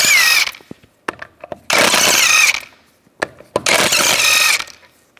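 An impact tool whirs and rattles in three loud bursts, removing 17 mm lug bolts from a 2007–2010 Mini Cooper rear wheel, with short clicks and pauses in between.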